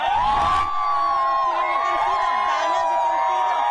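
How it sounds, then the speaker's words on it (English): Cricket fans gathered outside the stadium in Pune ahead of India's World Cup match against Bangladesh, a steady dense crowd din with whoops and shouting, while a voice carries through above it. "the fans are ready to cheer"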